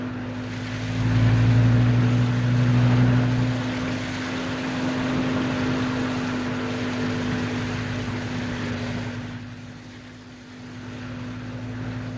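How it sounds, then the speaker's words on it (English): An old truck drives along a rough road, its engine droning low and steady with a strong hum throughout, loud and close, easing off briefly near the end with no talking. "The way this truck's dragging, you'd think we had a load."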